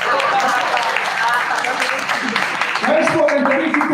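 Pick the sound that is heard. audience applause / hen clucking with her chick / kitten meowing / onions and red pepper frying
audience applause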